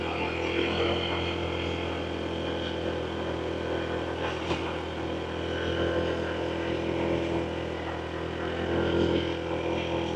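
Honda ADV160 scooter climbing a steep hill, its engine droning steadily and close throughout with wind rush, no voices.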